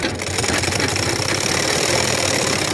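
A domestic sewing machine runs steadily while skipping stitches, its lower thread not being picked up; a close, continuous mechanical whirr with a fast, even knocking rhythm and no talk.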